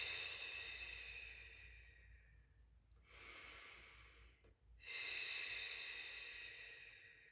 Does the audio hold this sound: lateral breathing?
yes